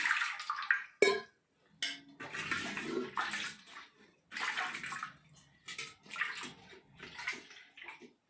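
Water splashes and pours into a pan of pav bhaji in short bursts, with clinks of kitchenware between pours.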